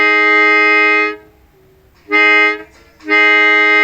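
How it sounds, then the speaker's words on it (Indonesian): Horn of a CC201 locomotive sounds three loud, sustained harmonic blasts, a long opening blast followed by two shorter ones separated by brief gaps. "Klakson lokomotif"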